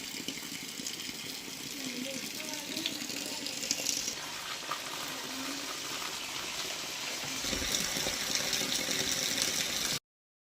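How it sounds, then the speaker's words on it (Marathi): Water gushes steadily from a tap into a container at a rural farm home, a continuous moderate splashing flow that grows slightly fuller near the end. "आता पाणी भरून घेते"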